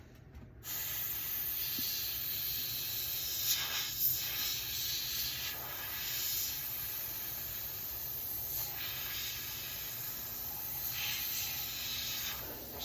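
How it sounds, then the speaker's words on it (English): An airbrush sprays paint onto an Eduard B-25J scale model, giving a steady, soft continuous hiss close by, with slight swells as the feed is adjusted, no voices. "I'm pulling back just a little bit on the airbrush feed nozzle."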